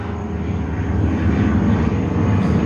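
Steady, droning roar of a propeller airplane flying overhead, loud and unbroken throughout with a low engine hum and no voices.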